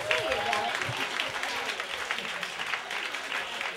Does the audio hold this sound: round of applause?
yes